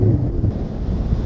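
Wind gusts across an open golf course during pitch-shot practice, a steady low rumbling buffet against the microphone with no other sounds.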